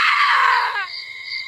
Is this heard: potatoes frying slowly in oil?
no